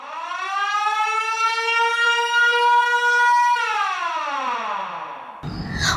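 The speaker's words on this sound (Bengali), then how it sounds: "সারা রাত সাইরেন বেঁধেছে দক্ষিণ ইসরায়েলে" An air raid siren wails across southern Israel during a night of missile alerts, loud and alone: a long steady rising tone that slides down in pitch before cutting off abruptly near the end.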